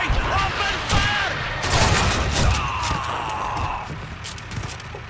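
Call of Duty 2 Eastern Front battle in the defense of Moscow: loud, rapid bursts of rifle and machine-gun fire with echoing shots, and voices shouting over the shooting.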